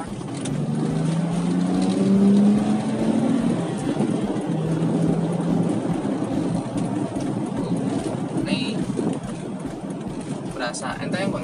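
A Toyota Agya car accelerates in second gear, its engine note rising steadily with a droning pitch over road and wind noise from inside the cabin.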